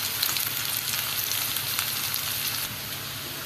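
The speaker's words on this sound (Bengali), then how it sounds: "ওর মধ্যে দিয়ে দিচ্ছি একটা ছোটো মিডিয়াম সাইজে পেঁয়াজ, ভালো করে ভেজে নিই।" A medium onion fries in hot oil in a pan, giving a dense, continuous sizzle and crackle that stays even and close throughout, with no voices.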